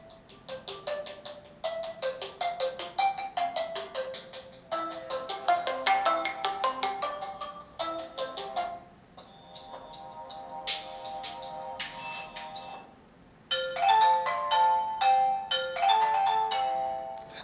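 A string of electronic voice-call ringtone melodies plays one after another through a QMobile Hot 1 phone's small loudspeaker, bright chiming notes with brief pauses between tunes.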